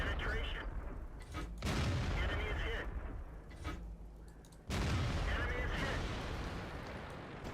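Tank cannon blasts in World of Tanks: loud booming shots with heavy rumbling decay, one near the start and a sharper one mid-clip, over a low engine and battle din.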